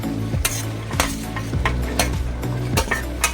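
Potato chunks are added to fully boiled meat in a pot for Dada Boudi style biryani and stirred: repeated scraping, sizzling strokes at a steady rhythm, close and moderately loud, with no talking.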